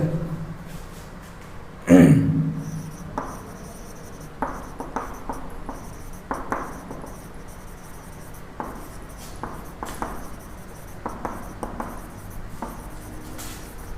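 Chalk or marker writing on a board during a Hindi-language physics lecture on gravitational potential, with a loud strike near the start followed by many short scratchy strokes in irregular rhythm, close and moderately loud.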